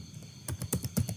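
Keys tapped on a computer keyboard while building a table of contents in Microsoft Word, about five soft, evenly spaced clicks close to the microphone with no talk.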